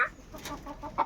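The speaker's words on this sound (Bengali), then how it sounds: "এই দেখো আমার মুরগি।" Hens clucking at close range, a few short clucks scattered through a brief moment, with one louder cluck near the end.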